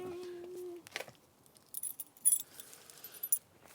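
A set of keys jingles and clinks in someone's hands at the start of an outdoor exploring walk, light metallic rattles in scattered bursts, close and fairly quiet, after a brief tone.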